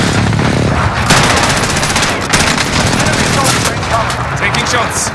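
Gunfire in Call of Duty rings out as loud, dense bursts of rapid automatic shots with sharp individual cracks, close and continuous, while voices speak underneath.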